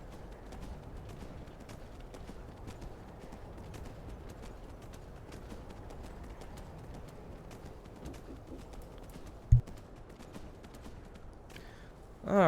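Horse galloping in Skyrim: a steady, fast run of soft hoofbeats holds an even pace throughout, with one sharp knock near the end.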